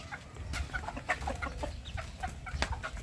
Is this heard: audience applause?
no